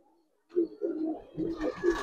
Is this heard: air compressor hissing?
no